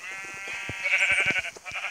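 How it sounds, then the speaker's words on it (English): Sheep bleat in a video game set on a farm with hay, giving a drawn-out, wavering bleat followed by more broken bleats over light clicks and taps. "There is a little sheep."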